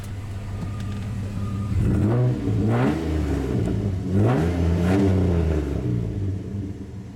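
A 2004 Dodge Dakota Custom truck engine idles with a low rumble, then revs up twice, its pitch rising and falling in two clear throttle blips before settling back to idle, close and alone.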